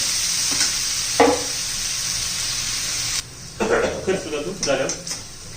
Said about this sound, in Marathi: मी चांगला कलर बदलेपर्यंत परतून घेणार आहोत आपण.